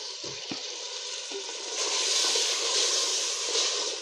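Ginger-garlic paste fries with spices and a splash of water for chicken biryani, giving a steady broadband sizzle that swells louder halfway through, with a couple of soft stirring knocks early on.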